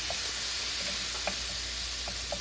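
Garlic toasting in a pan over medium-high heat gives off a steady, close sizzle and hiss, with faint pops of frying scattered throughout and no talking.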